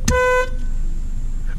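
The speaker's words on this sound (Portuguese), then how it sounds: "Dá uma buzinadinha" One short, loud honk of a car horn nearby, followed by a faint steady engine idle.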